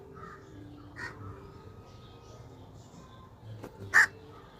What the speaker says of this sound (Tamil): மக்களை இந்த காக்கா வந்து ஏதோ புறக்கி கொத்தி போட்டுட்டே இருக்குது